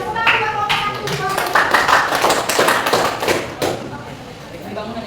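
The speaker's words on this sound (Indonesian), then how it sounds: "Tepuk tangan buat kelompok 1." A class claps for a student group with loud, irregular claps and taps close by, while voices talk over the clapping.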